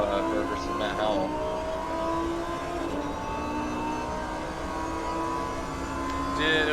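Race cars in the ACC sim racing game at the Zolder circuit, engines droning and revving continuously with shifting pitch as cars brake and accelerate, heard under a commentator's talk.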